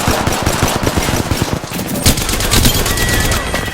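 Loud, dense automatic gunfire in the video game Apex Legends, rapid bursts filling the clip with a brief change in the shots midway, and a voice heard faintly underneath.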